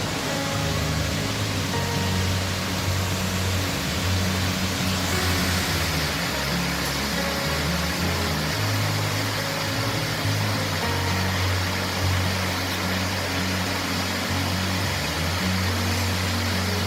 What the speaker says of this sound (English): this is my favorite view of Foster Falls